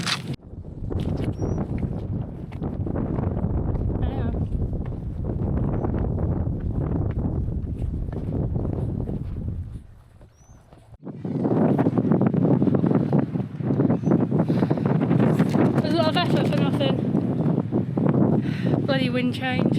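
Wind gusting on the shore at Ullapool, Scotland, roaring hard into the microphone in a broad buffeting rush that briefly drops away, then returns even stronger.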